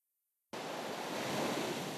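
Ocean waves rolling onto a sandy beach in Niigata, Joetsu, a steady broadband rush of surf and wind that starts abruptly and stays loud and continuous throughout.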